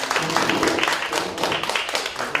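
An audience at a civic politics talk show bursts into dense, sustained clapping that fills the short moment at a steady level.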